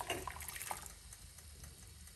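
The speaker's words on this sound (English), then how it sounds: "Going to put 1 cup of hot water" Hot water poured into a pot, a brief gurgling splash that settles into a soft, steady trickle.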